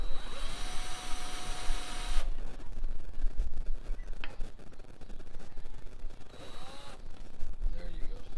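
A power drill bores through a wooden block with a loud, close, high whine for about two seconds, then a lower grinding stretch and a shorter second burst near the end, set against background noise with some speech.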